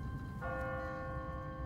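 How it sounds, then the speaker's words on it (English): An automatic, timer-rung church bell strikes once at twenty past the hour, its bright tone ringing out and sustaining with a long, slowly fading hum over a low rumbling background. "What kind of church bell goes off at 20 past the hour?"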